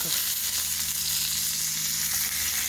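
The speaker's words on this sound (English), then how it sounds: "cooking this pork" Pork chops frying in a pan give a steady, loud, close sizzle that runs unbroken and evenly throughout, with no voices.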